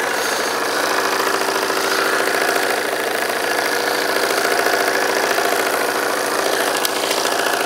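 A Polaris ATV engine runs steadily with a loud, close, throbbing drone, its mid-pitched rumble holding constant and unbroken while hauling a trailer of firewood.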